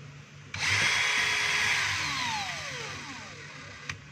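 A DeWalt DCD777 cordless drill with a faulty, slow-returning trigger switch whirs up sharply, then its motor pitch slides down gradually as it slowly winds to a stop, close and alone.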